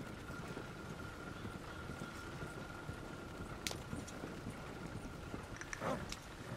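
Horse hooves clop along a road in Red Dead Redemption 2, a soft, steady patter of hoofbeats beneath constant wind and outdoor ambience, fairly quiet, with a couple of brief sharper sounds near the middle and end.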